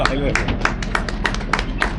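A small audience at a public speech in Pudukkottai gives a short burst of scattered, uneven clapping, close and loud, with a voice over the claps.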